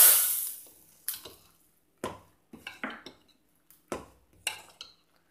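Metal utensils clatter against pots while hot tempering of oil, mustard seeds and asafoetida is poured into rasam for a Mangalorean veg thali, a loud opening sizzle followed by a series of sharp clinks and scrapes, with no talk.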